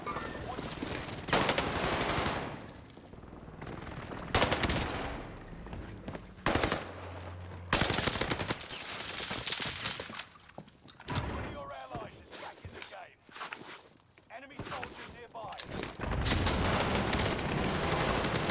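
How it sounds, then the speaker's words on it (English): Rapid bursts of automatic gunfire and explosions from the video game Warzone rattle in repeated volleys, loud and chaotic, with a player talking excitedly over the shooting. "there's literally a guy shooting up here"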